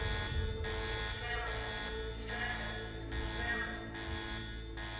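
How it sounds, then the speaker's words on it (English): A scramble alarm buzzer in the naval warfare game Sea Power pulses in steady on-off bursts, about two per second, over a constant low hum, with no talk. "I'd be blasting away on the scramble alarm right now."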